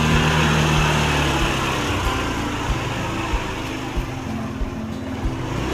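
Vehicle engines run steadily near a row of parked motorcycles, a loud droning hum with faint periodic knocks, continuous throughout and with no speech.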